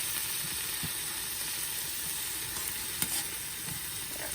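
Beet greens frying in hot fat in a pan give off a steady, fairly soft sizzle and hiss, with a few faint stirring knocks and one sharper tap of a utensil partway through.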